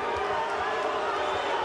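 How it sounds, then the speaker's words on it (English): Boxing arena crowd in the 12th and final round of a two-world-title fight, a steady loud wash of mixed murmuring and scattered shouts with no distinct cheer bursts. "Freitas hearing the mixed reaction from the crowd"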